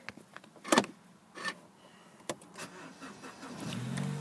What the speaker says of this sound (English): And if we just get the car started.